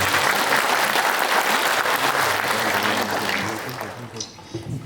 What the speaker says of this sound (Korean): 총무원장 스님께 박수 보내주시죠.